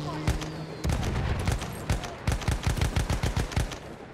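Rapid gunfire from a weapon in the video game Battlefield 1, with dense automatic bursts crackling loudly and nearly continuously over a busy battlefield din.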